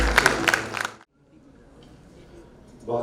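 An audience at a national readers' conference in Pakistan claps to welcome a speaker to the stage, a brief burst of dense applause that stops abruptly after about a second, leaving quiet room tone and a faint rise at the end.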